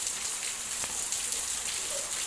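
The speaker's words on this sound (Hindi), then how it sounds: "अभी देखिए मैं आपको इधर दिखाती हूँ, इतना बारिश पूरा।" Steady rain falls outdoors in a garden with a Christmas tree, flowers and a toy ball, making a continuous even hiss of drops on surfaces, with no talking over it.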